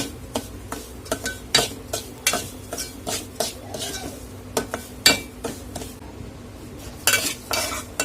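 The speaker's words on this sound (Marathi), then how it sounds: "रवा भाजून घेणार आहोत" Semolina roasting in a pan over low-to-medium heat for mango shira, with a spoon scraping and clinking against the metal in repeated irregular strokes, close and fairly loud, with no voices.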